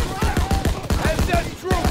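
Rapid World War II gunfire in Call of Duty WW2, a dense volley of sharp overlapping rifle and machine-gun shots in a steady rhythm, with shouted voices mixed in during battle.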